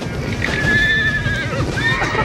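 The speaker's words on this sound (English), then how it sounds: "The horses here are faster or stronger and a great deal wilder than we are used to" Wild Mongolian horses whinny loudly and close by, a rising and falling neigh over a busy background of hooves and movement.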